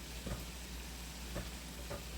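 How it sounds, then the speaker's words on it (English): Food sizzles softly in a hot pan during taco cooking, a steady low frying hiss with three faint scrapes of a utensil stirring it. "All right, let me get this stirred in."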